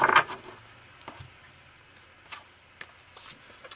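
A deck of tarot cards is shuffled close by, a quick riffle burst at the start followed by a few soft taps and card slides in quiet surroundings.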